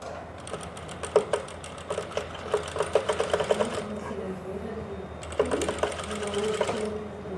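Sewing machine running with a normal presser foot, stitching garment work slowly and carefully in bursts of rapid needle clatter, pausing briefly midway before resuming, close and fairly loud with a low motor hum beneath.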